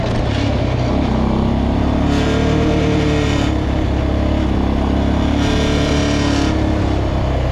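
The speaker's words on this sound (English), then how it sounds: "car coming down" A car engine roars steadily close by, its pitch rising and falling as the vehicle passes, with constant loud road rumble throughout.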